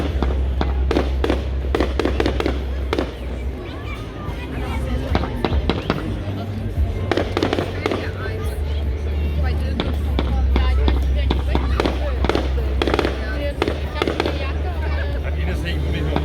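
Fireworks burst at a lakeside island festival in Krakow am See, loud cracking and booming explosions repeating in rapid irregular volleys, with a crowd and nearby voices talking throughout.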